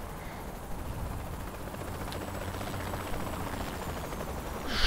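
Helicopter crashing in the video game Saints Row: The Third, a dense rumbling roar of rotor and explosion noise, steady and close, swelling at the end.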